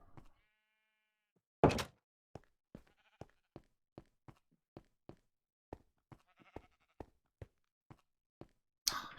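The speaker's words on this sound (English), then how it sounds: "Sheep." Sheep in the video game Minecraft, with a short bleat at the start and louder ones near the middle and end, separated by a regular run of crisp, quiet footstep-like clicks over silence.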